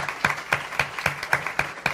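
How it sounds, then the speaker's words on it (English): An audience claps at a closing ceremony, a short burst of sparse, distinct hand claps in a loose rhythm, fairly close and moderately loud. "You can give a round of applause."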